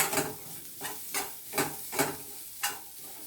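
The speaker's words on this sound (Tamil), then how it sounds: "இதை கிளறி ஆஃப் பண்ணிட வேண்டியது தான்" Sautéed radish and green peas stirred in a pan, with about six regular scraping strokes of the spatula over a soft, continuous sizzle, close by and with no voices.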